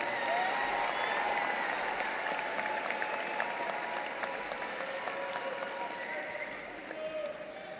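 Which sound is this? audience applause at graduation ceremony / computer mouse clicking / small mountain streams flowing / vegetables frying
audience applause at graduation ceremony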